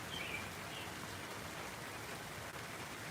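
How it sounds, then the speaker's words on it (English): Rain falling outdoors, a steady soft hiss of drops with faint dripping, fairly quiet and continuous with no talk. "I hear a little dripping. Yeah, it's raining."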